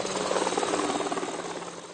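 An ultralight helicopter, built by a Basque Country company, flies past with a steady, loud rotor and engine drone that holds for about two seconds with no voices.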